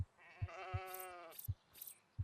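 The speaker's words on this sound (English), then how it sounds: "There's just a big orange sheep right there." A sheep bleats once, with a drawn-out wavering cry in a national park simulator video game. Soft rhythmic thuds and faint high chirps sound around it, with no talking.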